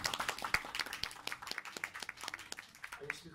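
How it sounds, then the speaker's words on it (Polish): An audience in a store event space claps for a band, a dense burst of close, sharp handclaps with no one speaking over them. "teraz brawa dla państwa"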